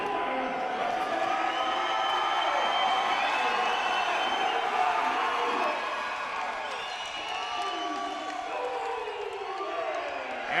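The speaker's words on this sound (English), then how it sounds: "MV MMA bringing the crowd again. You hear them." A crowd cheers and roars steadily at a Cage Wars MMA event, a dense sustained wall of voices that dips slightly midway before swelling again.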